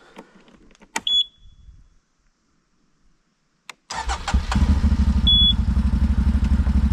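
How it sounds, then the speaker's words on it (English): A CFMOTO 800 XC adventure motorcycle starts up after a few clicks and a short electronic beep, then settles into a loud, steady, close engine drone with engine braking while riding downhill. "this will be a good demonstration on the engine braking I was talking about"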